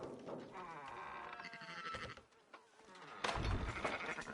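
Sheep bleat repeatedly amid a busy, layered Red Dead Redemption 2 game soundscape with buzzing insects, and a louder burst of noise near the end.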